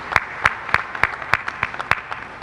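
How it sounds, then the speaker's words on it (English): An audience claps at a seminal lecture. The sound comes as loud, evenly spaced sharp claps, about three per second, against a soft background, with no talking. "And so I want you to applaud your efforts."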